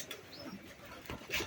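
Pigeons coo softly as they come down to feed, a few faint, low calls spread across a short quiet stretch.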